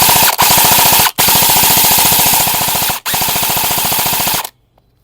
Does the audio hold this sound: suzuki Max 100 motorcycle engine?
no